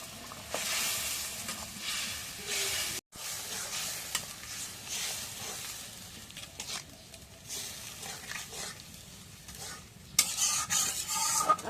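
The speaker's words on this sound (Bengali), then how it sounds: "এখন মশলাটা একটু হালকা করে কষাই নিই" Spice paste of ground cumin, ginger and garlic with whole garam masala fries in a pan, a steady close sizzle with stirring scrapes that carries on throughout, broken by one brief drop near the third second.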